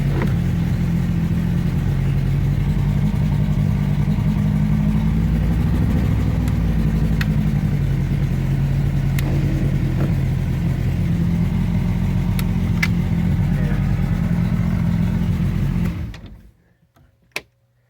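A 150 hp Johnson outboard on a 1973 Grady White 191 Sportsman runs steadily with a loud, droning mid-pitched hum and faint mechanical clunks, then shuts off abruptly near the end.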